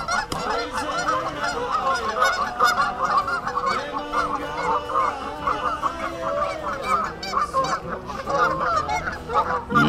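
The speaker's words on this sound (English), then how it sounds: "Let's see if the goose come over." A flock of geese honks loudly and continuously beside a park pond at Floyd Lamb Park at Tule Springs in Las Vegas, with overlapping, busy calls close by.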